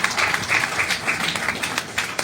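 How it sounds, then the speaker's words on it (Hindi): A seated audience at a Hindi book-launch and honour ceremony claps together, brisk overlapping applause with a rippling rhythm that carries on briefly without any talk over it. "सर के लिए आप लोग फिर से तालियां बजा रहे हैं।"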